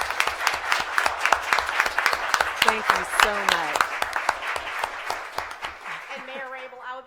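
Applause from the audience at a school board meeting, honoring city council members and the mayor, with dense clapping throughout under a voice of thanks and other talk nearby.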